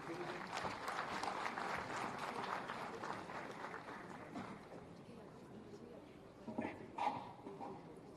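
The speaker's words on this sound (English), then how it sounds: "a huge round of applause for him." Audience applause at the opening ceremony of a disaster management conference, a steady, fairly faint patter of many hands that slowly fades, with a voice briefly heard near the end.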